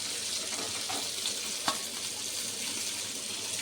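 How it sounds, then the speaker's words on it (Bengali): Pomfret fish fry in a pan with oil, giving a steady close hiss and crackle that holds evenly, with one brief faint clink. "একটু ভালো করে ভাজতে হয়, না হলে ভেঙে যাওয়ার চান্স থাকে এই মাছটা"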